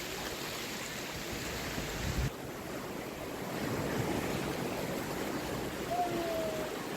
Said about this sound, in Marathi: समुद्राच्या लाटा जोरजोरात आपल्याकडे येताना दिसतात